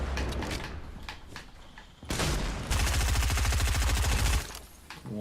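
A silenced SCAR assault rifle fires in the Fortnite battle royale game, with a few scattered shots followed by a loud, rapid sustained burst that lasts over a second and then stops.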